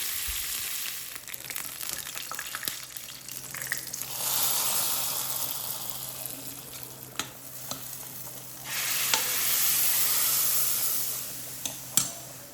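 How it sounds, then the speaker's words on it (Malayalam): Mustard seeds, dried chili and curry leaves fried as a tempering and poured into boiling dal curry in a home kitchen, giving a broad crackling sizzle and hiss that surges twice, with a few sharp pops near the end. "കടുക് മുളക് കറിവേപ്പില ഇതെല്ലാം കൂടിയിട്ട് നമ്മൾ നല്ലോണം തിളച്ച് വന്ന ആ ഒരു പയർ കറിയിലേക്ക് ഒഴിച്ചു കൊടുക്കാം"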